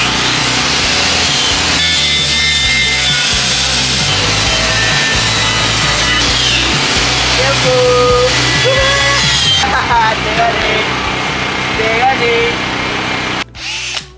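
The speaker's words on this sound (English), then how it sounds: "we need to clean them first, and I'm gonna go with this drill and this paint removing disc, and Iberto's gonna go with the grinder" A drill with a paint-removing disc and an angle grinder with a metal grinding disc clean metal pieces at a house build, giving a loud, continuous high whine with pitch dips and people talking.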